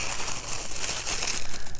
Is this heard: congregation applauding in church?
no